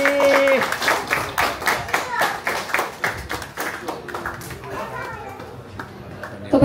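Guests at a Nepali book launch in Japan clap in loose rhythmic bursts, close and fairly loud, with a brief tone at the start and chatter mixed in as the clapping thins out.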